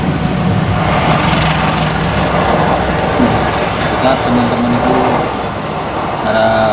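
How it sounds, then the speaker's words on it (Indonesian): A train rumbles past at close range, a steady loud mechanical roar throughout, with people talking over it. "sehingga ada suara kereta api yang lewat."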